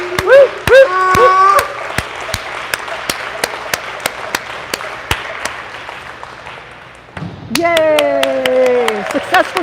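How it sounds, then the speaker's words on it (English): A crowd at WEIO, the World Eskimo-Indian Olympics, claps a steady, even rhythm for a jumper in the scissor broad jump finals. The sharp, loud claps run throughout, with cheering and voices rising at the start and again near the end. "Okay, everybody, let's clap."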